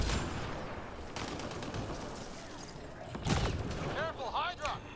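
A shotgun fires in Mass Effect Andromeda during heavy combat with enemies, with sharp repeated shots amid dense battle noise and faint talk, fairly quiet overall.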